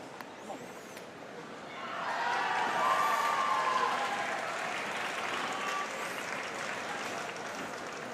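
Crowd applause at a wheelchair para table tennis doubles match, swelling after a couple of seconds into sustained clapping from a large indoor audience, then holding steady at a slightly lower level.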